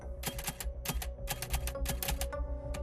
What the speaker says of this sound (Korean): (75세의) 대통령은 항상 영문 타자기를 사용했습니다.